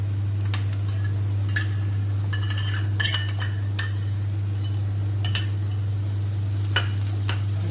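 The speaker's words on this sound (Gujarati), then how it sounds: "બસ હવે આપણે આ દહીં એડ કરી દઈશું અંદર" Curd stirred into a pulao in a cooking pot gives a soft continuous sizzle, with a spoon clinking and scraping against the metal at irregular moments over a steady low hum, and no talk.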